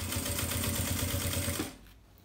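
A sewing machine stitches a fabric notebook cover in a rapid, steady mechanical chatter, close by, then stops abruptly near the end leaving quiet room tone.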